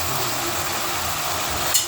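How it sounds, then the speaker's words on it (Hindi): Chicken tikka pieces frying lightly in a little oil with masala, a steady soft sizzle throughout, brief stir or clatter near the end, no voices. "मसाला नहीं जलेगा और चिकन पीस हमारे हल्के से फ्राई हो जाएंगे"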